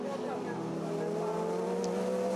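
Chevrolet touring race cars from the 2007 World Touring Car Championship at Anderstorp racing past, a steady loud engine drone with a rising tone while a commentator talks over it.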